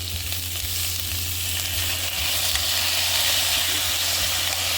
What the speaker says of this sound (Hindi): फिर ये बंद गोभी डालेंगे। इन सबको अच्छी तरह से सौटे करेंगे।